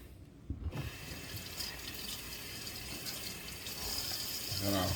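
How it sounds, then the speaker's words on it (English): A kitchen knife rinsed under a running kitchen tap, a steady broadband splash of water that starts after a brief clatter and swells louder near the end, heard alone at close range. "I'm gonna wash our knife."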